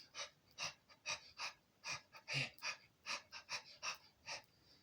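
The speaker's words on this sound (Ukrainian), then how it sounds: "під час гри я роблю подих, видих, подих, видих." Rhythmic breaths in and out while playing a jaw harp (Ukrainian drymba), about a dozen soft airy pulses in a steady cycle, close and quiet with no talking.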